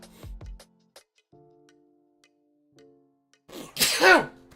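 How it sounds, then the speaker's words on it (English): A single sharp sneeze bursts out near the end, loud and close, after a few faint clicks and soft tones from a Pokemon TCG Live game playing on a computer. "Crazy sneeze reaction on stream"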